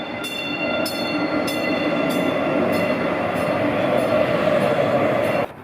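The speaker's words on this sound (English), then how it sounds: "the familiar sound of the light rail pulling into the station" Light rail train pulling into a station gives a steady rumbling roar with a faint high whine and a regular series of soft clicks, loud and continuous before cutting off near the end.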